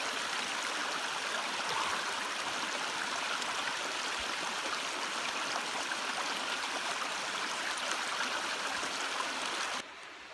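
Browns Creek flows steadily over rocks beside the Appalachian Trail, a broad continuous rushing and gurgling that holds even throughout before thinning abruptly at the very end.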